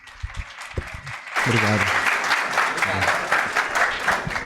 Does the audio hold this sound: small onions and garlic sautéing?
no